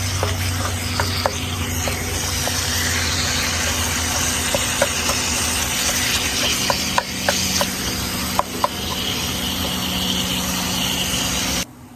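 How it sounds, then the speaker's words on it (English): Deer meat and pork sausage brown in a pan with a continuous hissing sizzle, scattered pops and crackles, and a low hum underneath, with no talking. "it is coming on down, getting browned up"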